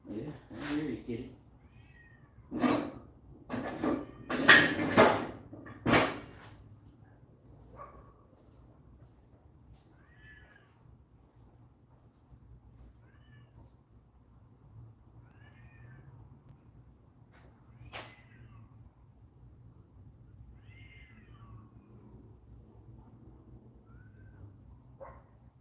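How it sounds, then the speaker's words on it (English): Cats meow in a few short, faint cries early on, followed by long stretches of quiet background with occasional soft, distant mews. "That is a cat. That sounds like 2 cats."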